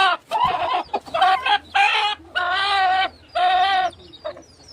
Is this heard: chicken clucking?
yes